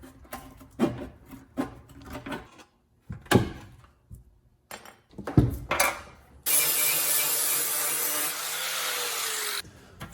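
Tape template being trimmed against a car fender from an E36, with intermittent scraping, rubbing and cutting sounds in short irregular bursts, then a steady loud rushing hiss for the last few seconds, with no talking.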